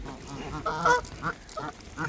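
Close, repeated honking and quacking calls from waterfowl gathering for feed on Lake Windermere, several short bursts in quick succession over outdoor background noise.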